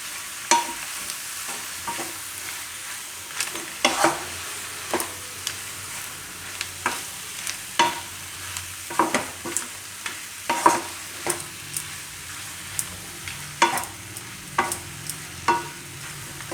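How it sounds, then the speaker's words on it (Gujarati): Roti pieces stirred in a frying pan for a Gujarati buttermilk-tempered roti dish, a steady series of sharp spoon scrapes and clacks against the pan over a faint sizzle, close and clear with no talk. "આ રીતે રોટલી મિક્સ કરી દેવાની"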